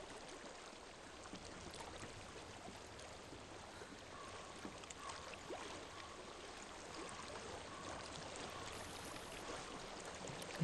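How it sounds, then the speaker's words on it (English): Flowing stream water in the Hellblade video game, a steady faint wash of rushing water with soft trickling texture, continuous and even throughout with no other clear sounds. "I hear water."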